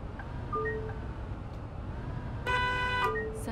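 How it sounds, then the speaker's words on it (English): Bus horn in the Bus Simulator 18 video game honking in two bursts, a brief toot followed by a longer, louder blast, over a steady low engine rumble. "Gotta honk at them."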